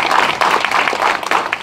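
Brief burst of audience applause for a moderator, Student Minister Anthony Muhammad, at a community program, a loud, close wash of clapping hands with no talk.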